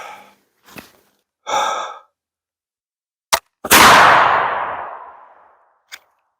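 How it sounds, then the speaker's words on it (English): A single firearm round fired outdoors at a range, a sharp loud crack followed by a long decaying boom, preceded by a few breaths and small handling noises, with a faint click afterward. "Let's fire a round."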